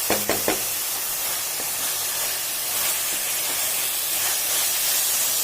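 Tomato masala sweetened with jaggery fries in a pan for tuvar dal with drumstick leaves, a loud, steady sizzling hiss that carries on unbroken after a few brief knocks at the start.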